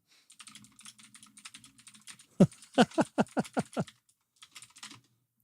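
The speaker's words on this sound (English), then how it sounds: "Does my keyboard sound like that, or is mine like significantly more thumpy?" Close-up computer keyboard typing: bursts of light clicking, then a run of heavier, thumpy keystrokes in steady rhythm, more light tapping, then silence.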